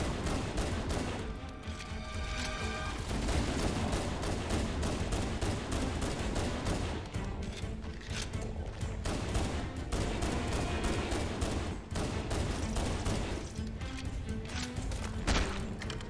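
Sustained, heavy automatic gunfire in Halo CE Anniversary on PC, in The Library campaign level, loud, dense and nearly continuous rapid bursts with no speech audible.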